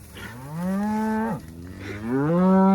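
A cow in a pasture moos twice up close, long drawn-out lowing calls with a short pause between them.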